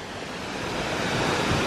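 Strong ocean surf breaks along a coastline in Australia, a continuous broad roar of rushing water that swells slightly louder toward the end, with no talking.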